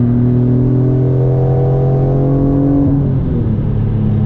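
A Nissan Maxima VQ35DE engine hums loudly at a steady pitch, then the tone drops and shifts after a downshift and keeps pulling on the highway, heard from inside.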